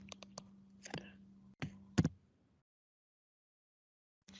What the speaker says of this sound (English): I can come here and start typing